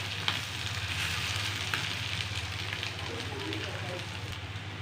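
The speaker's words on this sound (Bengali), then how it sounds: "মাছের ডিমও প্রায় ভাজা হয়ে গিয়েছে" Fish roe frying in a pan for a fish egg curry, giving a steady, continuous sizzle that runs evenly throughout at moderate loudness with no talk over it.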